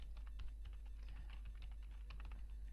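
Fingers type a URL on a computer keyboard in a quick, uneven run of light clicking keystrokes over a steady low hum, close and faint.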